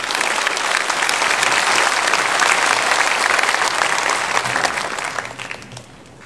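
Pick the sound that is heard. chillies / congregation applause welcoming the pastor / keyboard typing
congregation applause welcoming the pastor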